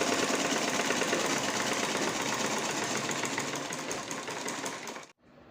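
A sewing machine stitches a square neckline on a garment, running in a fast, steady mechanical whir close by, tapering off briefly before stopping abruptly near the end.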